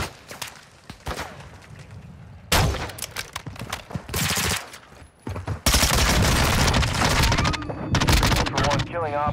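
Gunfire in the video game Call of Duty DMZ, with scattered shots early on, then loud sustained bursts of automatic fire and booms crowding the later seconds, mixed with game sounds and a voice speaking.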